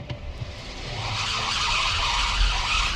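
A 2023 Nissan Ariya EVOLVE+ electric car launches hard, its tires squealing loudly and continuously from inside the cabin, with a broad roar of road and tire noise building and no engine note.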